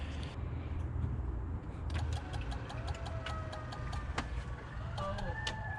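The fuel relay of a supercharged Pontiac Bonneville SSEi clicks several times in quick succession as the key is turned to prime fuel, sharp ticks heard over a hissy engine-bay background with faint electrical whines.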